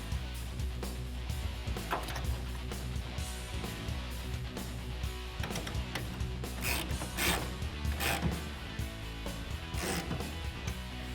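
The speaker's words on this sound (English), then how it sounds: "Grab your 17mm socket and tighten it down." A 17mm socket ratchet clicks in short bursts while tightening a tonneau cover rail bolt on a 2019-2021 Silverado or Sierra truck bed, with intermittent mechanical rattles and knocks.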